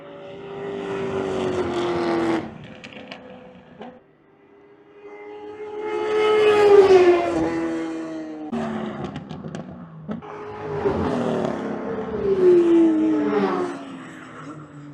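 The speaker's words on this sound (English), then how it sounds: "here comes the first 2 cars from the session before mine" Race cars on track at Thunderhill Raceway, three loud engine passes that each rise and then fade as a car roars by and the pitch drops, with short quieter gaps between them.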